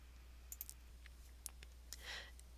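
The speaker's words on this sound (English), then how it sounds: "When you're finished, you just click Save." Several sharp, faint mouse clicks scattered in a quiet background while saving a new calendar event, followed by a brief soft rustle near the end.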